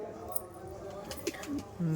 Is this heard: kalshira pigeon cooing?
yes